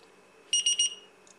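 A low-voltage alarm on a BEC power distributor sounds a quick run of three shrill electronic beeps, close and clear over a quiet background, followed by a faint fainter chirp.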